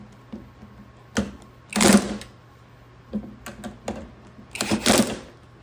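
Power torque wrench on low power tightening bolts on a Harbor Freight US General five-drawer tool cart: two clusters of short, sharp ratcheting bursts a few seconds apart, close and moderately loud, with light clicks between.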